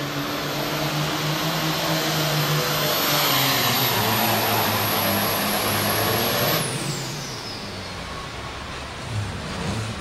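A tractor-pulling competitor called Never Enough roars down the track at the 2003 NFMS Super Farm Tractor Pulling event in Louisville's Freedom Hall. Its engine bellows loud and continuous, with a high whine that sweeps downward after several seconds before the roar eases slightly.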